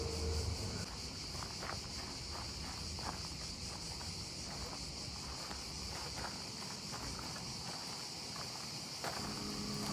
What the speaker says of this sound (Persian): صدای جیرجیرک ها که تو تابستون ایتالیا صدایی که زیاد شنیده میشه از منطقه‌های پردرخت